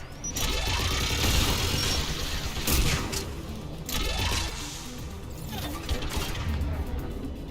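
Turrets fire in Mass Effect: Legendary Edition, loud bursts of rapid gunfire with mechanical whirring and crashing impacts that come in waves across the span.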